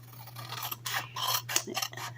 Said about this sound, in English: I'm just going to cut around that really quick.